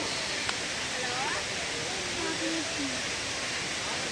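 A waterfall on a hilltop sends out a steady broadband rush of flowing water that fills the clip evenly, with faint distant voices now and then beneath it.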